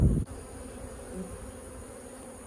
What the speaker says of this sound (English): I'm hoping this hive hasn't died out and these are robber bees.